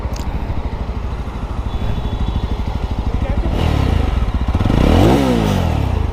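Yezdi Roadster motorcycle engine firing up from a start and idling with a steady, close thumping beat, then revving higher in rising sweeps while a voice talks over it.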